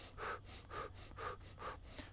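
Breathing repeats in a steady cycle of about four soft, close breaths, each a quick sniffing inhale like smelling a flower followed by a puffed exhale as if blowing out a candle.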